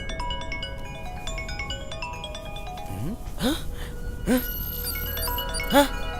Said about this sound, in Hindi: ये देख, मैसेज की घंटी, आ गया नंबर।